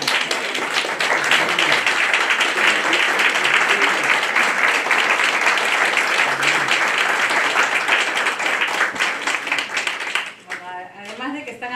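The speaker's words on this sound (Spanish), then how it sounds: "Además de que están aplaudiendo" Audience applause at a book presentation, a long, steady wash of many hands clapping, with voices mixed in underneath, ending abruptly as the room quiets and a voice resumes.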